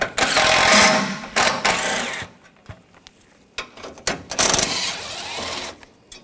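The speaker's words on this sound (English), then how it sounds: "Take these bolts out, use a 10mm socket." A 10mm socket on a ratchet wrench pulls bolts from a 2013-2022 Buick Encore 1.4L during an intercooler replacement, giving loud bursts of rapid clicking and whirring that break off into short pauses and sharp clicks.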